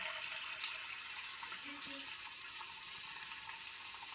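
Corn garelu batter frying in hot oil gives a soft, steady hiss and sizzle that stays fairly quiet and even throughout, with no talking.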